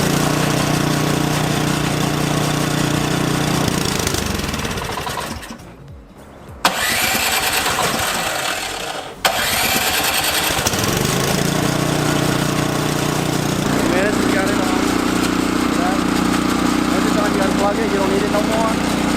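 A gas-powered snowblower engine, primed after sitting unused for a year, cranks and catches in the morning after a blizzard, then runs loud and steady with a brief dip and restart midway, while a person talks nearby.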